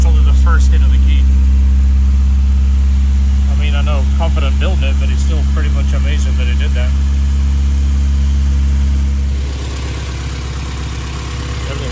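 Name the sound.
rebuilt Honda Civic B18C Type R engine starting and idling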